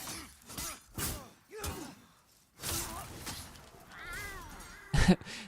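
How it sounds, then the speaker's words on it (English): A cat meowing in the dark fantasy action game Demon's Souls, several short tonal mews in an uneven sequence, fairly close and clear, followed by a sharp thud near the end. "Thank you for turning me into a cat, Ellie."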